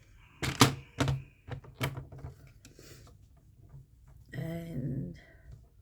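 A paper trimmer handled at a craft table, giving a few sharp close clacks and knocks early on, then softer sliding and rubbing, followed by a brief buzzy scrape near the end.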